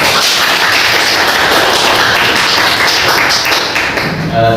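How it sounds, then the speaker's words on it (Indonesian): A classroom full of students claps together, a dense, steady burst of applause that holds at full strength for several seconds before tapering slightly at the end. "Kasih tepuk tangan buat ya."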